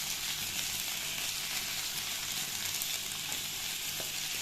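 Sausage frying in a dry pan with no oil or ghee while being stirred, a steady close sizzle with faint scraping throughout, no voices.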